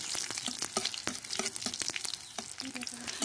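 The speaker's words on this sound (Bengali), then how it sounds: "আমি এখানে 4টা শুকনো মরিচ দিয়ে দেব, দিয়ে হালকা একটু নাড়াচাড়া দিয়ে ভেজে নেব।" Garlic cloves and four dried red chillies frying in hot oil, a soft continuous sizzle with frequent light taps and scrapes as they are gently stirred, fairly quiet and with no voice over it.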